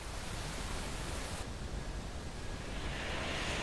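A roaring waterfall in Guyana, heard from within its drifting mist, gives a constant, dense rushing roar with no breaks, filling the whole stretch evenly.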